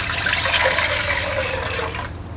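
Water is poured steadily into a pressure cooker holding a whole bulb of unpeeled garlic cloves, a continuous close splashing and filling rush that tapers off near the end.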